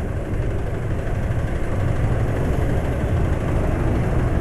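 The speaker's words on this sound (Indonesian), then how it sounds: "Jelas ngelidik" A Honda 160 scooter engine knocks while running at full throttle at speed, a loud, steady, dense roar that holds constant throughout with no talking.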